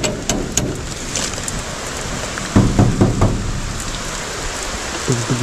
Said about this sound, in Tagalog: inabot na nga tayo ng ulan.